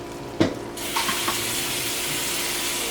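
A kitchen tap is turned on and cold water runs steadily into a sink to soak boiled eggs, with a couple of clunks at the start.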